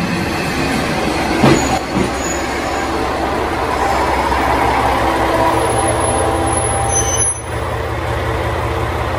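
Interior of a Japanese express train running toward Kamigori, with a continuous loud rumble of wheels on track, a low steady drone, and faint high squeals and brief clunks over the ride.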